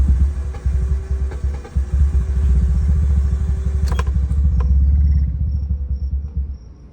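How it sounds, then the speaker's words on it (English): A Mitsubishi Evo 8 with a starting fault cranks and runs roughly with a rapid, uneven engine pulse, a sharp catch near the middle, then the engine dies and the sound drops off, close and loud. "And watch when I try starting it."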